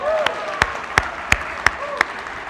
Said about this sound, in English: Please clap your hands.